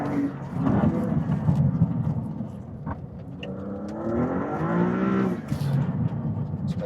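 Maserati GT2 race car engine on a track, a steady loud roar with rising pitch sweeps as it revs through slow corners in second gear, with some voice murmur beneath.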